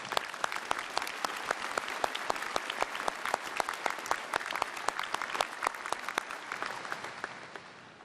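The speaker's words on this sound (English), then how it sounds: "please join me in giving them a well-deserved round of applause" Commencement ceremony audience applauding, dense broadband clapping with a few sharp close claps standing out, steady for several seconds then gently tapering off near the end.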